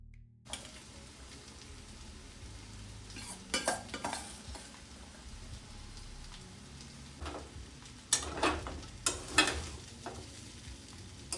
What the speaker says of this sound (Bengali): তো আমি এর মধ্যে ভেজে রাখা এই সবজিগুলো দিয়ে দেব।